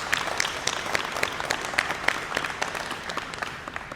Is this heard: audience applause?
yes